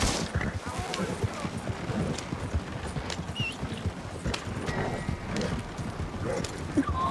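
A horse gallops in the Red Dead video game, its hooves a rapid, loud clip-clop rhythm running throughout, with voices talking over it.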